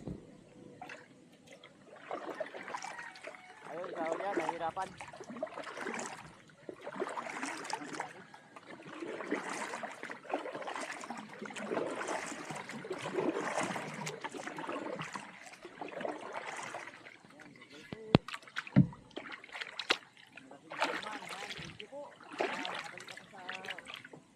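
Paddling a boat with an oar through shallow water near Cagbalete, soft irregular splashes and trickles under frequent nearby talk, with a few sharp knocks late on.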